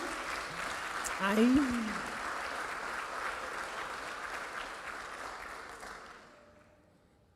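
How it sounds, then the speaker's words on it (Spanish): Church congregation applauding in a broad, sustained wash of clapping that slowly fades out, with a voice calling out near the start. "un aplauso al que está en una buena relación."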